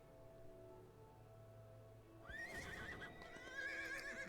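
A horse whinnies and hooves clip-clop in a fantasy tabletop role-play game soundtrack, quiet at first, then a rising neigh with hoof steps following.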